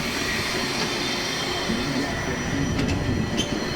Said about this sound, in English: So we're about to board the train